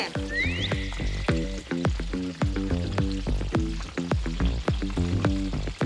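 Onions frying in oil hiss and sizzle steadily, close and loud, broken by regular clattering stirs of a utensil against the pan, with a brief squeak near the start.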